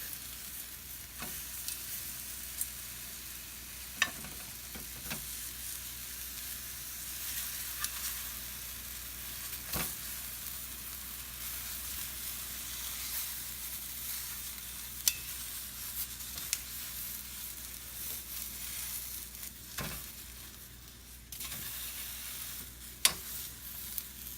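Vegetables sizzle as they roast in a pan for fresh salsa, a steady close hiss with occasional small pops and clicks, no voices.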